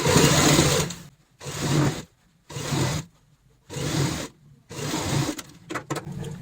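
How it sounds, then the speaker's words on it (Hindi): Sewing machine stitching cloth for a homemade ladies' purse, running in five close, loud bursts of steady whirring separated by short pauses, no talking. "यहाँ पे सिलाई लगाएंगे।"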